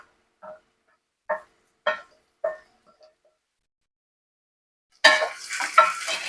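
Garlic and ginger paste for Schezwan chutney hits hot oil and bursts into a loud, steady sizzle after a few scattered clicks and taps of utensils in a quiet kitchen.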